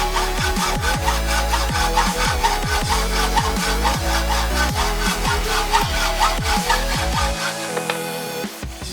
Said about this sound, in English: began making the adapter flange by roughly cutting it to size.